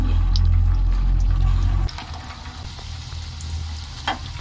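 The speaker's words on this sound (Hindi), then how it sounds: "एक एक कर इसे हम गरम तेल में डालेंगे।" Aloo poha snacks dropped into hot oil over a low-to-medium flame, giving a loud steady sizzle that drops to a softer, continuous frying hiss partway through, with no talking.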